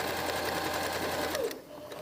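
A sewing machine runs steadily in a fast, even stitching buzz as it sews along a jacket lining hem, then slows and stops near the end.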